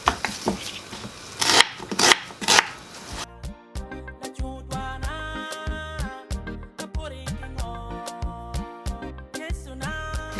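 An onion is chopped with a knife for a goat meat and okra stew, giving a few loud, uneven cutting and scraping strokes. Music then takes over for the rest of the clip.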